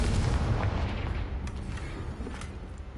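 The Confringo explosive spell in the video game Hogwarts Legacy, a loud continuous blast with a rumbling boom and crackling debris that fades slightly over three seconds.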